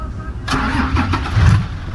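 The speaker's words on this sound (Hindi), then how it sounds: "गाड़ी स्टार्ट हो" A car engine cranking and catching after a choke repair, a sudden start followed by rough rumbling idle close by, with a voice speaking over it.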